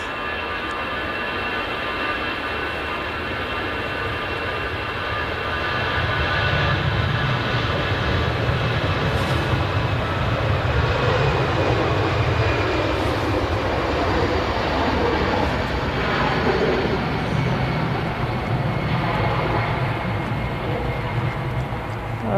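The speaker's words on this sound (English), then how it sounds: "So that Lufthansa is an A320 going back to Frankfurt." A Lufthansa Airbus A320 jet airliner at Manchester Airport, a sustained low engine rumble and roar that builds after the first few seconds and stays loud and steady, with no speech.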